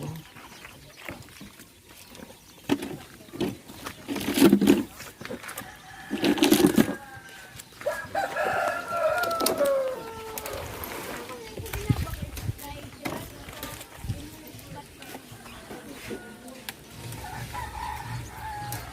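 Hens cluck and a rooster crows in a couple of loud bursts on a farm, with people talking nearby and farmyard noise throughout.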